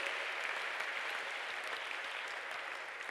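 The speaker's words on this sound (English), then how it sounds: "Clap hands for yourselves." A church congregation at an evening prayer service claps steadily in a dense, even wash of hands, sustained throughout with no talking over it.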